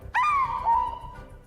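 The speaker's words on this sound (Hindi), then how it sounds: "कांगलुआन एक अमर पक्षी है जो श्वानजी की रक्षा करता है।" A mythical immortal guardian bird in a Chinese fantasy drama gives a single clear, drawn-out call, a sudden bright onset sliding gently downward and fading over about a second, loud and alone over faint background.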